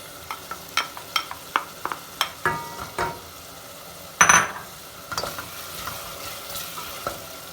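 Onions and peppers sizzle in a pan while a spoon repeatedly scrapes and clinks against it, with one louder clatter midway; no voices.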